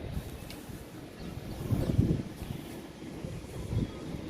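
Wind blows steadily outdoors, strong enough to keep knocking over heavy flower pots, making a low buffeting rumble with gusts that swell around the middle and near the end; no one speaks.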